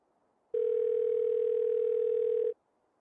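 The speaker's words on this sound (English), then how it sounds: "Dialing." A telephone dial tone sounds when a call is placed: a single steady electronic tone lasting about two seconds, loud and close, with quiet room hiss before and after.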